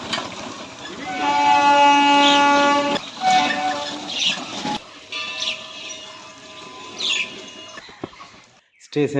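A train passes through Kanki railway station, its loud horn sounding in long held blasts before the rumble and rattle of the cars carry on, with birds faintly chirping around the platform.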